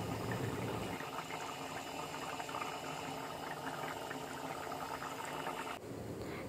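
Chicken akhni biryani simmering under a lid in a pot on medium heat, giving a steady close bubbling hiss that runs evenly throughout and cuts slightly near the end.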